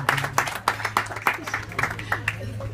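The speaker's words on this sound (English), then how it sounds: "Please give her a round of applause." Applause from an audience at a birthday opera evening, honouring a woman celebrating her birthday: scattered hand claps close by with some voices mixed in, brief and uneven.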